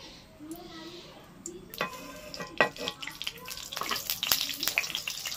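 Oil crackles and sizzles in a pan while a Bengali kochu shak dish with hilsa head is cooked. Bursts of frying intensify over a few seconds, mixed with scraping and stirring noises up close.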